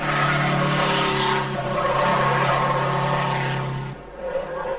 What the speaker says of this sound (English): On the winding roads through the forest, Tony Fall's Volkswagen was still spectacular